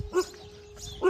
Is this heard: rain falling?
no